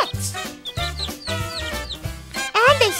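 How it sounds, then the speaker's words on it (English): Baby chickens (chicks) make repeated short clucking and cheeping calls in quick irregular bursts, close and fairly loud, with a sharper chirping burst near the end. "Some baby chickens stopped by. Baby chickens are called chicks."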